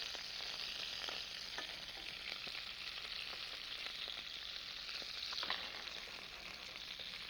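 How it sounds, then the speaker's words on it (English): Chicken pieces browning in a pan over high heat give a steady, loud fry with constant crackle and occasional sharper splatter pops throughout, no voices. "I've got me heat on high. It splatters a bit, but it browns better."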